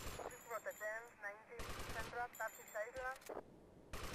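Gunfire in GTA Vice City, with bursts of rapid game shots layered among a voice, the shots coming in several short clusters across the stretch.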